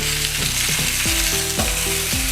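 Honey glazed pork ribs frying in a pan as their fat renders, a loud continuous sizzle with crackling bursts and a few clinks of a utensil stirring, no voices.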